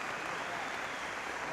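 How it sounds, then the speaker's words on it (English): Round of applause from a town hall audience, a steady wash of clapping heard briefly at low level. "Please give her a big round of applause."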